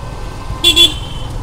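A Yamaha FZS-V2 motorcycle horn on the road gives two quick, close honks over a low engine and traffic hum.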